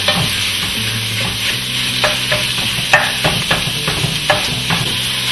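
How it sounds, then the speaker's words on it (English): Sausage browning in a frying pan sizzles steadily up close, while a spatula scrapes and stirs in repeated strokes above the constant hiss; no speech. "Now that our sausage is starting to brown"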